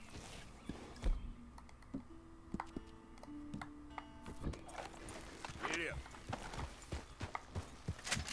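Scattered horse hoof clops and clicks sound amid Red Dead Redemption 2 game noises and tones, with a person talking over them at moderate volume.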